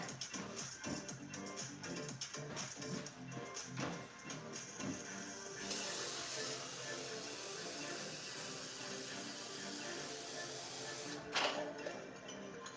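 Tap water runs steadily into a Komestone rock tumbler barrel, a broad, even hiss that starts partway through after some light clattering and handling noises.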